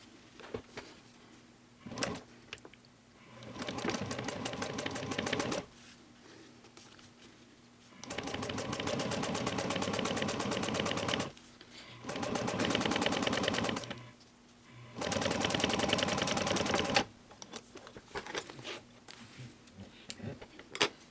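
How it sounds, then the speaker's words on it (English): A sewing machine runs in several sustained bursts while top stitching a tote bag, each run lasting a few seconds with short pauses between, close and fairly loud with no talk. "And I'm going to top stitch again, folding my accent over the previous seam."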